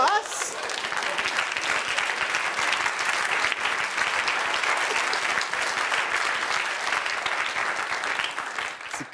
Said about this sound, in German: Sie klatschen, weil sie sich ertappt fühlen.